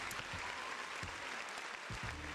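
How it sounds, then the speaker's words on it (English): A short stretch of steady applause at a Teamfight Tactics Golden Spatula tournament rises from a crowd of many hands, a dense even patter of claps at moderate level with a few sharper individual claps. "A round of applause for a great season for Broseph."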